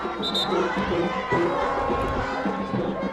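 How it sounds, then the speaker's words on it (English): Lively home crowd at a North College Hill high school football game cheers and shouts steadily through the second half, a dense roar of many voices with children's shouts and chatter mixed in. "you can see the active, lively crowd here tonight at North College Hill"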